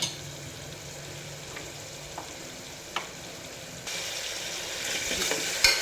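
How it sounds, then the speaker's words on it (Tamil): Onion, tomato and ginger garlic paste sautéing in a pan give a low sizzle with a few sparse stirring taps, then the frying swells louder near the end with a sharp scrape. "இது கொஞ்சம் ஒரு 2 மினிட்ஸ் நல்லா வதக்கிடுங்க, அந்த பச்சை வாசம் போகிற வரைக்கும்."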